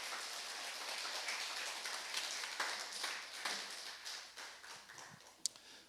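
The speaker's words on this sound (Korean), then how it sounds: "박수 한번 주시기 바랍니다" A church congregation claps during a Sunday worship service: soft, distant, rain-like patter held steady for several seconds, thinning toward the end with one sharp click.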